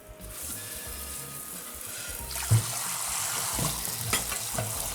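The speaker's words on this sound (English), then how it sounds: "I'll rinse out this bowl" Running tap water splashes steadily into a bowl being rinsed at a kitchen sink, a continuous close hiss and spatter with a couple of light clunks from the bowl.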